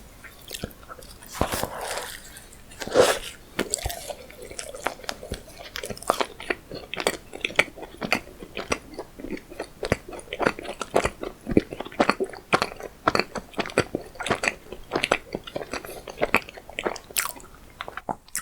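Someone bites into and chews a dessert dacquoise with a generous filling, producing close, crisp crunches and a dense run of repeated chewing sounds, with no talking.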